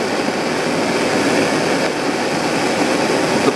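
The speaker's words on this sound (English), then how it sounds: "we get about a medium flame on the propane torch" A propane torch burns at a medium flame while heating the brass spout of a gas can, giving a steady, loud, close roaring hiss that holds unbroken throughout.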